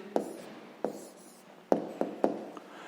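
A pen writing down the answer to a sixth-grade maths exercise makes five short, crisp scratching strokes on paper, spaced irregularly and heard up close in a quiet room.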